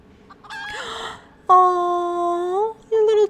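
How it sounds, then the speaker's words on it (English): A chicken in Final Fantasy XIV clucks briefly, then lets out a long, loud drawn-out crowing call and a final short squawk, close and clear against a quiet background. "Oh, your little chicken is your friend."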